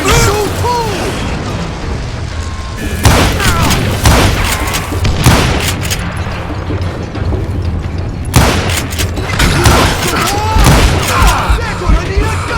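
Gunshots in Call of Juarez: Gunslinger, loud sharp cracks and booming blasts in irregular bursts, some in quick clusters, with a voice shouting over the shooting.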